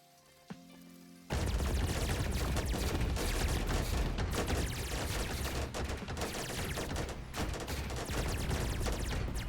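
Long-range artillery fire from missile mechs in the RTS roguelite Rogue Command, starting after a brief quiet moment and then continuing as a dense, loud barrage of overlapping blasts and crackling explosions, with no talking.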